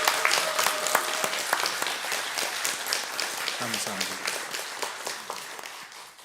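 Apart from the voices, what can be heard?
congregation applause in church service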